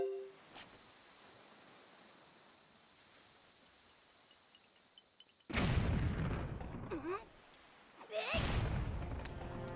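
Two heavy explosions in a Zelda video game, each a sudden loud boom with a rumbling tail, set apart by a short gap after a stretch of quiet ambience.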